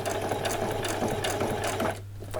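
A sewing machine runs a back stitch on small doll jeans, a quick steady whirring patter close by that stops abruptly near the end.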